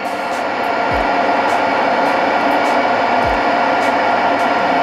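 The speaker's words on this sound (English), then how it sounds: "I'll ramp the heat gun up" Heat gun running at raised power near a 200Ah lithium battery, a loud, steady broadband blowing roar that holds constant, with two brief low thumps.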